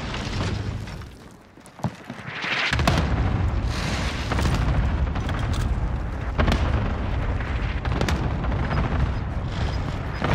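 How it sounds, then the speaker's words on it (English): Enemy cluster strike explosions boom in the Rebirth video game, a dense, continuous barrage of loud blasts and rumbling impacts rolling on for several seconds without voices. "Enemy cluster strike."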